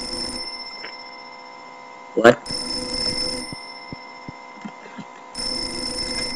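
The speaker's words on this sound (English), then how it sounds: "Well, why did the phone ring?" A telephone rings in the horror video game Mermaid Swamp, sounding in three bursts separated by pauses, with a voice briefly exclaiming between the first two rings.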